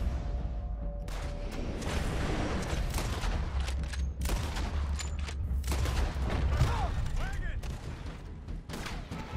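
Rapid bursts of gunfire and explosions crackle in a busy Red Dead Redemption 2 game soundscape, with scattered shots and booms under occasional talking.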